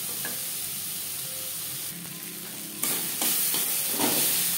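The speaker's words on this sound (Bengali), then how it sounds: "পেঁয়াজ লালচে করে ভেজে নেব" Onions fry in a pan until reddish brown for a fish curry with ridge gourd, a steady close sizzle broken by a few stirring scrapes and bursts of louder hissing.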